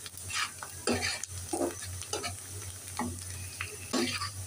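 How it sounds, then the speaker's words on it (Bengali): Onions fry in a pan with whole cinnamon and cardamom, a soft sizzle under rhythmic spatula strokes scraping the pan roughly once a second, close and moderately loud, over a low steady hum. "পেঁয়াজটা ভাজা হচ্ছে"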